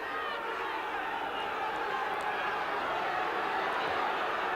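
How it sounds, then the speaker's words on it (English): Rugby league crowd at a 2002 National Cup semi-final between Hull KR and Whitehaven, a steady broad roar of many voices appealing for offside, sustained and moderately distant throughout. "I think the crowd appealing for offside"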